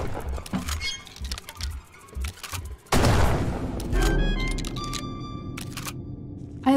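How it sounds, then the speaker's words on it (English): Gunfire in the video game Kill It With Fire striking a picture frame, a sharp loud crack and crash near the three-second mark, preceded by quieter clicks and rustling with a lingering ringing tail. "I literally shot that picture frame by accident, not knowing there was a spider behind it"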